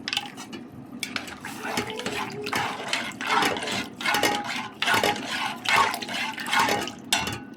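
Rice is drained of its cooking water in a home kitchen. Water pours and splashes steadily, with the pot and utensils clattering and knocking throughout.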